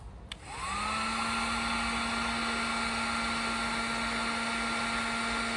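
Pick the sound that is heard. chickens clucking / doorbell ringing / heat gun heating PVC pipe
heat gun heating PVC pipe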